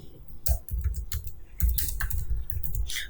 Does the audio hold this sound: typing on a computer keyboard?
yes